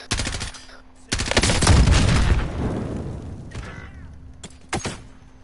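Bursts of automatic gunfire in a shooter game, one long heavy volley followed by a few shorter rattling bursts and single cracks, close and loud.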